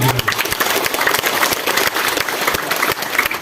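Steady applause from a crowd, dense clapping that holds at an even level for the whole stretch.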